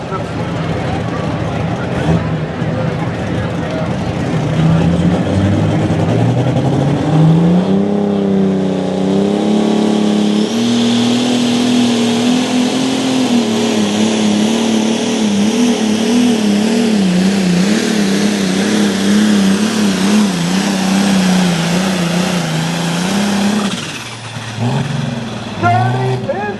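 A pulling tractor at an evening tractor pull in Langford, New York roars loud and steady throughout its run, the engine pitch climbing and wavering under strain, with an announcer talking over it.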